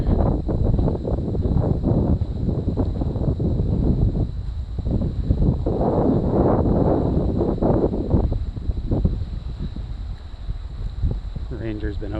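Wind gusts and rumbles against the microphone at an exposed lakeside campsite on Murtle Lake, with someone talking over the blustery noise throughout.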